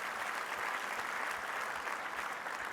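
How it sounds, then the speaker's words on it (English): An audience at an awards banquet applauds, a dense and even wash of clapping hands that holds steady throughout at moderate level, with no voices above it. "Please give him a round of applause."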